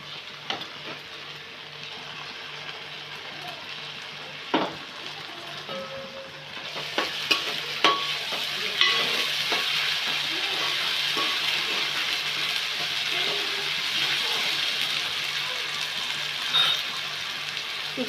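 A masala paste of ground onion, chili, ginger, garlic and dried coconut goes into hot oil, starting as a quiet simmer and then rising into a loud, continuous sizzle with scattered stirring scrapes and clicks close by.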